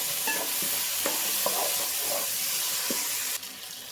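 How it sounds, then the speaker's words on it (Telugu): Turmeric and ginger-garlic paste are stirred into hot oil for veg biryani, a handful of spoon taps and scrapes spaced about half a second apart over a continuous hiss of frying. "అల్లం ఎల్లిగడ్డ వేసిన తర్వాత కూడా బాగా కలపండి"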